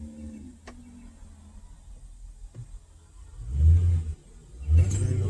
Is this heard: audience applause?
no